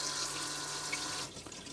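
Water rushes continuously as a cassette toilet in a Ford Nugget camper van flushes, a close steady gush that cuts off partway with a few trailing drips.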